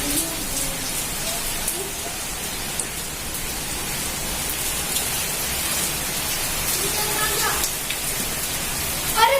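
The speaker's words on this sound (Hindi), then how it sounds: "यहाँ तक बारिश कभी नहीं आती, इतनी आ रही है।" Heavy rain pours steadily outdoors, a dense, loud, unbroken hiss of drops striking surfaces for the whole stretch, with faint occasional sounds of activity in the background.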